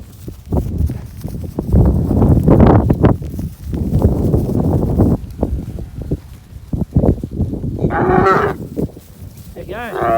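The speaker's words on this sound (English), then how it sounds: "There you go. Happy cows again." Cattle being moved onto a fresh grass paddock produce a few low moos near the end, mixed with shuffling and hoof noise, while someone speaks intermittently nearby.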